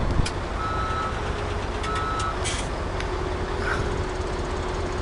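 Truck reversing beeps in Farming Simulator 17 repeat in a slow, steady series of high tones over a constant low engine rumble, with faint clanks and mechanical noises mixed in.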